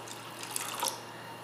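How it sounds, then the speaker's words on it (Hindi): Water pours into full-fat milk in a saucepan for tea with a soft, steady splashing trickle, faint and brief in a quiet kitchen. "और इसमें डालेंगे 1/2 कप पानी।"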